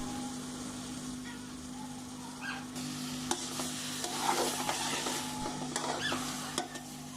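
Spices being stirred into cauliflower sabzi frying in a pan at home, with a steady sizzle under scraping stir strokes and a few sharp knocks of the spoon against the pan, close and fairly loud throughout.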